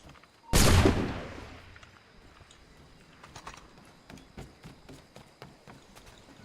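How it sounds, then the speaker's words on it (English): A single loud rifle shot cracks out in Assassin's Creed Shadows, a sharp blast with a long decaying tail, followed by faint background ambience and light ticking game sounds. "Let's kill this last one with a rifle."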